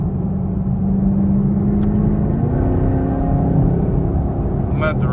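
A car on a test drive gives a steady, close engine drone and road rumble that holds level throughout, with a faint high whine near the end.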